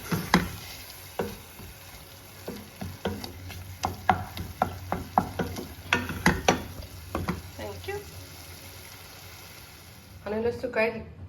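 Egg bhaji, a fried egg, sizzles in a pan while a utensil taps and scrapes against it in a quick irregular rhythm. A voice is heard briefly near the end.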